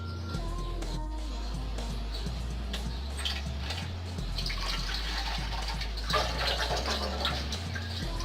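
Water pours into a cup at home, a steady close-up splashing trickle that runs the whole time over a low constant hum, with no one talking.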